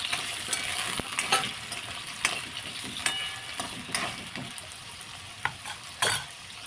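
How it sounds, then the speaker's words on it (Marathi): Potatoes and cauliflower frying in a pan, a continuous hiss of hot oil punctuated by irregular sharp clacks and scrapes from stirring, close-up with no voices. "बटाटा सुद्धा फ्राय करून घ्यायचा"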